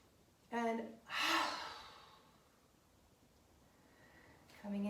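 Deep breaths drawn in during a hatha yoga flow, with two close audible inhales a moment apart, a faint airy exhale trailing off, and another breath starting at the end.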